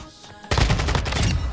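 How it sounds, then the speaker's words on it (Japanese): Dense, heavy automatic gunfire in Call of Duty Modern Warfare 2 with bass boost turned on, bursting in loud after a quiet half-second and continuing as a booming, low-heavy rattle. "あれ銃声やっぱり重くなる。"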